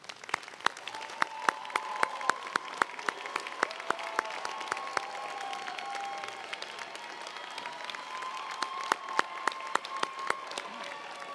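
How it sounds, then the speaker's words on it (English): A large audience claps at the UC Merced fall commencement ceremony, a dense, even patter of hand claps with crisp individual slaps standing out, sustained for about eleven seconds with no talking. "join me in a round of applause for the family and friends"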